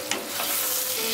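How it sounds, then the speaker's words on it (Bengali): Taro greens with a hilsa fish head are stirred in a pan, giving a steady, close sizzle and frying hiss with soft scraping of the spoon throughout. "নেড়ে দিচ্ছি"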